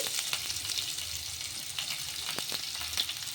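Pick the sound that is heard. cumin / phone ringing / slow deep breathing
cumin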